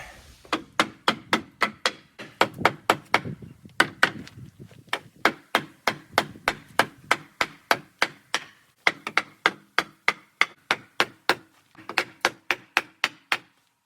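Rapid series of sharp hammer blows striking wood while building pallet walls, loud and close, steady in bursts with brief pauses between runs of strikes.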